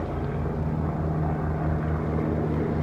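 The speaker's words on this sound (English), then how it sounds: "Why is there a helicopter?" A loud, steady helicopter drone with a rhythmic rotor thump, close overhead and continuous throughout.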